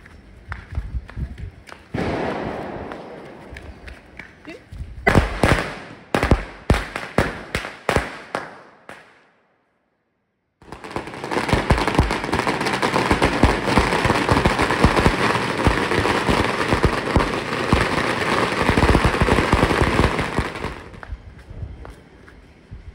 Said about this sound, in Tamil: மார்னிங் வந்து ஆஸ் யூஷுவல் நம்ம வெடி தான் வெடிப்போம்